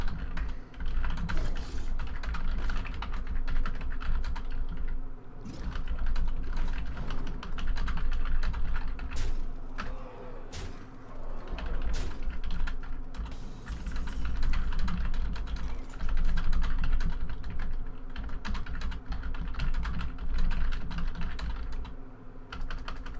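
Rapid, steady typing on a computer keyboard during a Hearthstone game session, close and continuous clatter of keys over a low background hum.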